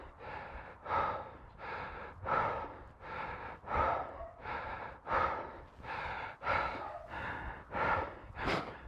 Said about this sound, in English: My breathing is pretty heavy still